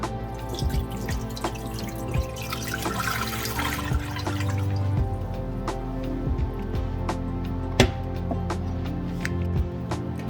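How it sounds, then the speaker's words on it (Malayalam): Four cups of water pour into a pan set on a stove, a steady splashing stream with scattered clinks and drips, close and continuous for several seconds. "അതിലേക്ക് ഒരു 4 കപ്പ് വെള്ളം ആഡ് ചെയ്ത് കൊടുക്കാം."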